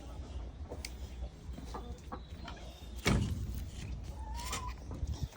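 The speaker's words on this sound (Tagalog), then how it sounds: "walong hen tapos isa-isang rooster dito" Breeder hens and roosters in a coop, about eight hens to each rooster, cluck and call repeatedly at close range, with one louder squawk midway and no voices.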